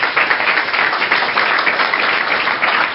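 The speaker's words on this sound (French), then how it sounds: "Applaudissons pour le Seigneur." A church congregation claps together in praise, a dense continuous burst of applause heard alone at steady loudness.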